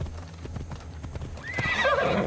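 Hooves clip-clop at a steady ride in Assassin's Creed Odyssey, then a clear, wavering whinny breaks out near the end. The sound is close and moderately loud.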